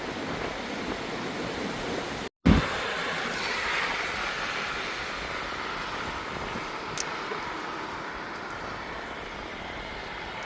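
Steady roaring wind from Storm Ashley in Glasgow city centre, with a broad rushing wash like surf, continuous and loud, with a brief dropout and a thump partway through.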